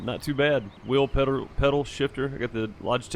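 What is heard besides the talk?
No distinct noise like a dog, phone or traffic.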